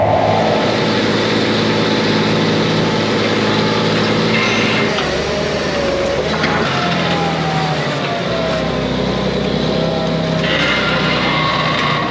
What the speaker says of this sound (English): Y'all hear that tractor bob, man?